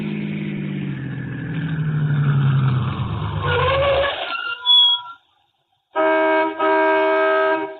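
A radio-drama car engine drones and slows as the car pulls into a gas station at night, then cuts off, followed by a brief pause and a bright, ringing bell-like tone.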